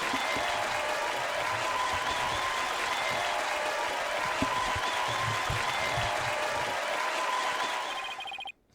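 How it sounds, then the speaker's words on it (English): Crowd noise in a courtroom video game, a dense continuous wash of cheering and clapping that holds steady and loud, then cuts off abruptly at the end. "I was tired of hearing the fucking crowd going."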